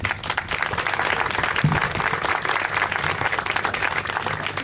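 A crowd at a lymphedema walk/run event in Santa Monica applauds, with dense, continuous clapping from many hands that holds steady throughout the clip.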